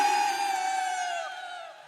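Crowd at a Bengali Baul song performance lets out a sustained high ululation, a steady wavering tone held for about two seconds, loud and close, with no singing or talk over it.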